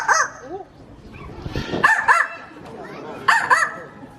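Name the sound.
elephant imitating a dog bark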